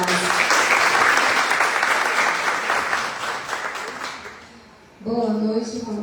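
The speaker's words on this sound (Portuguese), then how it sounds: "vamos acolher Patrícia com a salva de palmas" An audience gives a warm round of applause to welcome a mediator at a seminar, loud dense clapping that fades away, followed by a short burst of music.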